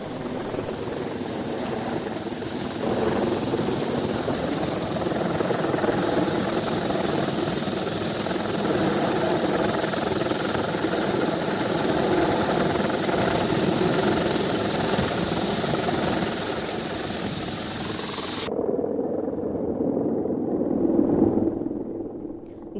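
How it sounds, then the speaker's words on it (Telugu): Air force rescue helicopter during flood relief in heavy Gujarat rain, a steady throbbing rotor and engine drone held at an even level throughout, with some wind-like noise and no speech. "ముంపు ప్రాంతాల్లో చిక్కుకున్న వారిని వాయుసేన హెలికాప్టర్లు రక్షించి సురక్షిత ప్రాంతాలకు తరలిస్తున్నారు"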